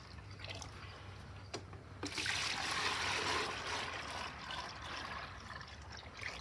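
Thick sugar water being poured from a container into buckets for winter feeders, a sustained liquid rush and trickle after a couple of soft knocks, fairly quiet and close.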